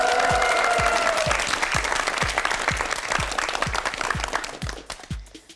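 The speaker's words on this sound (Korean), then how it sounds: "박수 보내주세요." Studio audience at a televised Korean word quiz show applauding in a full, steady burst over a rhythmic low beat, fading away toward the end.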